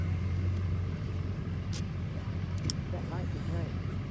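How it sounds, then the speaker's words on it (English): Road traffic heard from inside or beside a vehicle, a steady low rumble of car engines and tires, with people talking faintly over it. "the traffic's clearing out"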